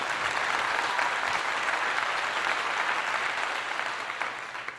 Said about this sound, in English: I'll give you a most respectful clap